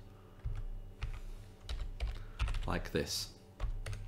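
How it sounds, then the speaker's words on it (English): Keys clatter on a computer keyboard in irregular taps and short bursts, close and fairly quiet, with someone speaking briefly over the typing. "I can go to a new line and type something else"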